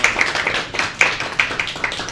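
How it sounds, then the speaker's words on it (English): Scattered clapping from a small group at a makerspace class, a handful of distinct sharp claps in an uneven rhythm, close and brief, with light murmuring. "a big round of applause for making these"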